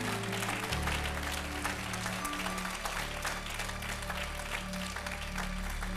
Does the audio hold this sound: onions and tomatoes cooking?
no